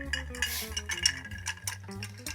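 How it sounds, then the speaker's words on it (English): A spoon stirs a cocktail over large ice cubes, giving a steady, close clinking and rattling of ice against the glass for a couple of seconds, with no voice over it. "Just put in some of my larger cubes here. And we'll give the cocktail a stir just to chill and dilute."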